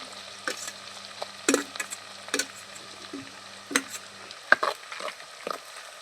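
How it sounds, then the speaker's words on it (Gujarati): Soft sizzling of garlic frying in hot oil in a pan with intermittent spoon clacks and scrapes; a low hum stops partway while the stirring clicks continue. "પછી લહણ નાખી દઈએ"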